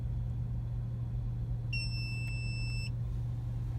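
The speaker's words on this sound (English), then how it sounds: "You hear that horrible beep" An Eonon GA6151 car stereo fitted in a Mazda 3 gives a single sustained electronic beep of about a second while the mode button is held, sounding over a low steady cabin hum.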